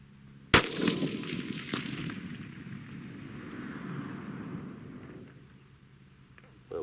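A single sharp rifle shot cracks out at an outdoor range while a Feyachi RFS-21 6-24x50mm scope is being zeroed, followed by a long rumbling echo that fades over several seconds.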